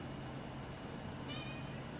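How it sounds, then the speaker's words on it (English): A cat gives a single short, faint meow partway through, set against a steady background hum with no talking. "Looks like Kitty's active"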